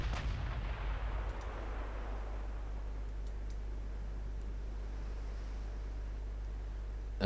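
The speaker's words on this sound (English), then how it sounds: "The battleship is already firing." Battleship guns fire in the naval game Ultimate Admiral Dreadnoughts, a single heavy boom at the start that decays into a low rumbling wash, followed by faint distant ticks.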